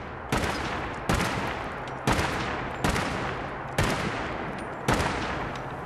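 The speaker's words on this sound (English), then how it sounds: "Now just go ahead and shoot a little bit" A Winchester Model 1907 cowboy carbine firing in Fallout 4 gives six loud, sharp shots at roughly one-second intervals, each with a short ringing decay, with no voices.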